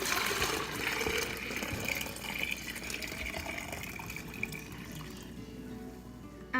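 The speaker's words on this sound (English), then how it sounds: "After your tea has cooled off for just a little bit, you're going to want to pour it into your pitcher" Sweet tea poured steadily into a pitcher, a continuous rushing, filling stream that runs for several seconds and softens slightly toward the end.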